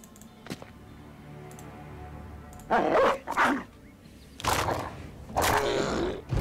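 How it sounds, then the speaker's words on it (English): A dog barking in the video game Battle Brothers, several loud gruff barks in separate bursts over a low ambient background, close and without talk. "Good doggy, scaring the Naxxera."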